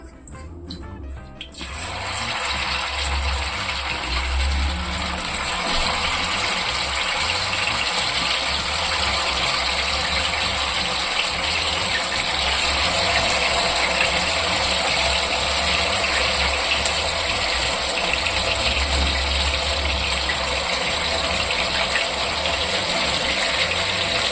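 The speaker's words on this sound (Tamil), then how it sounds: "இப்போ வந்து நம்ம சிக்கன் வந்து பொரிச்சிக்கலாம்." Chicken pieces sizzle steadily in hot oil previously used for frying onions, a dense, continuous crackling hiss that starts abruptly and holds loud and close without pause.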